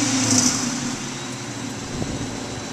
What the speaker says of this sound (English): the engine runs excellent